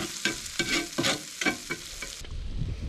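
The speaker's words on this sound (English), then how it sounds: "let it melt away and sizzle away and cook that garlic a little bit," Garlic cooks in a cast iron pan outdoors in outback Australia, with a few stirring scrapes and then a steady close sizzle that fills the background.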